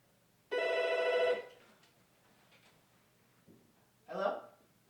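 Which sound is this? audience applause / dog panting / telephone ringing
telephone ringing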